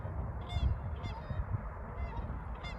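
Several geese honk in a loose rhythm, a handful of nasal calls fairly close, over a soft low outdoor rumble.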